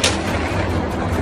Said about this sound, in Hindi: निज्जर AK-47 से एक के बाद एक कुल 5 गोलियां चलाता है